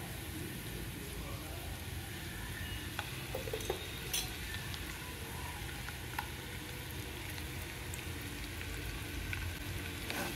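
Eggs fry in a pan with garam masala, a soft steady sizzle with occasional stirring clicks, faint and continuous, with a voice talking over it.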